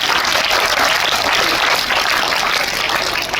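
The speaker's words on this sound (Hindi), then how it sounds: "तो इन सब के लिए एक बार जोर से ताली हो" An audience applauds at a school teachers' honouring ceremony, a dense, steady clapping from many hands sustained loudly throughout without a break.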